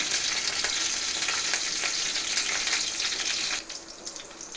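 Mustard seeds, cumin, chillies and garlic sizzle steadily in hot oil while being stirred, a loud dense crackle with spatter pops that drops noticeably quieter near the end.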